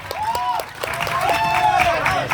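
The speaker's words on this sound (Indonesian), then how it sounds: "Tepuk tangan." A group of children clap their hands together in a quick, roughly rhythmic burst at a Maulid Nabi gathering, with voices chanting and calling out over the clapping.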